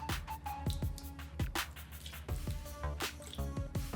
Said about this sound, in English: So let's throw in some vinegar, about 5 tablespoons.